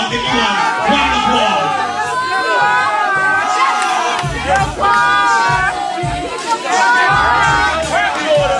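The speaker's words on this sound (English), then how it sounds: "Definitely give Mavado a round of applause." A packed drag ball crowd at the Dorian Corey Awards Ball roars with dense cheering, shrieks and excited shouting. The din is loud and close, swelling and dipping without pause for the whole stretch.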